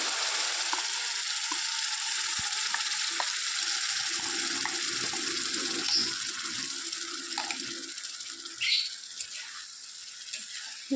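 Carom seeds and pumpkin paste fry in hot oil with a steady soft sizzle and a few faint stirring taps, close and even throughout, with no talking.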